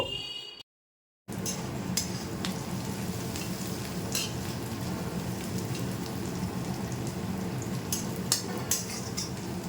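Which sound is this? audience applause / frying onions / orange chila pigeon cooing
frying onions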